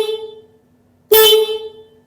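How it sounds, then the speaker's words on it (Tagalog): A single short motorcycle horn blast sounds close and loud after a moment of quiet, its tone lingering briefly before fading. "Pindutan natin yung switch ng busina."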